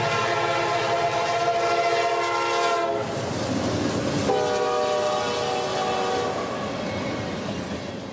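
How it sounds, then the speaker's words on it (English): A CSX freight train led by two rebuilt SD70 Mace locomotives running elephant style with a short train passes close, its loud multi-tone horn blaring in long blasts over the rumble of the engines and wheels. "Two of CSX's rebuilt SD70 Maces would lead this train south this morning"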